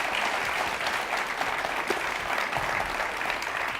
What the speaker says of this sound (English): How about a round of applause for Mark?